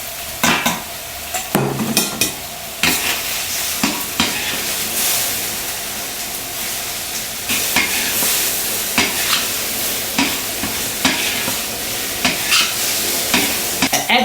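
Pork, cucumber and egg stir-fried in a wok, a steady loud sizzle broken by repeated scraping clatters of the spatula tossing and flipping the food, close up with no voices.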